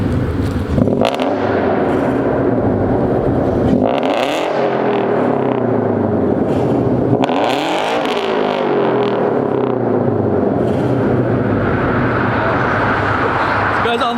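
A car with a newly installed exhaust header revs and accelerates in a tunnel, with repeated engine pulls that rise in pitch and boom off the walls, followed by a steady drone and some nearby chatter.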